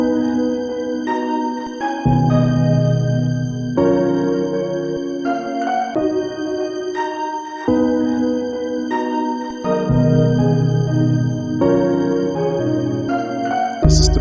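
Electronic house music made in the OpenMPT tracker, with a steady pounding beat, a thick bass line and bright synth chords changing in sections every few seconds, played loud and alone with no talking.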